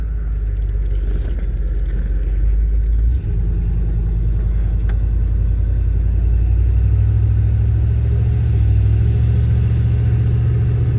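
A 1988 Chevy OBS pickup truck's engine, not yet warmed up, rumbles steadily while driving, a loud, low, continuous drone with a brief dip and shift in pitch partway through as the load changes, with no talking.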